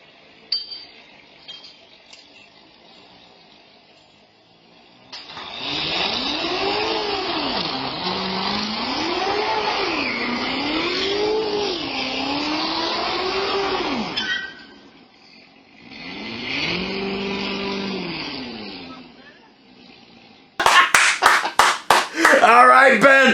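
A Corvette ZR1 spins donuts, its engine wailing in long, wavering revs whose pitch rises and falls with each rotation, loud and sustained. A short second burst follows a pause, then sharp clatter at the end.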